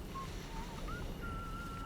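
A thin, wavering whistle drifts in from somewhere out of sight in the post-apocalyptic countryside of the video game Atomfall, a few short notes then a longer held tone, faint above a steady wind-like rush.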